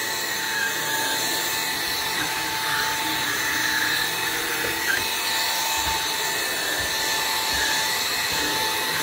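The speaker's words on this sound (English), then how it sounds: "So it makes vacuuming your stairs super easy." A RAYCOP Omni Power cordless stick vacuum cleaner runs steadily on stairs, a continuous close motor whine with a faint tonal hum and brushing scuffs, no voices over it.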